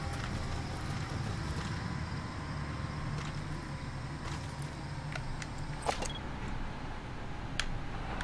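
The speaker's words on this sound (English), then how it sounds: "I hear a car though." A car drives past in the video game Metal Gear Solid V, heard as a steady, continuous rumble of engine and road noise with faint clicks and rattles on top.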